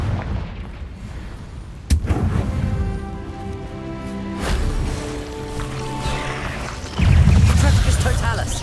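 Confringo spell explosions in the video game Hogwarts Legacy on PS5, several booming blasts at about two, four and seven seconds over continuous rumbling battle noise, with a voice speaking over the action.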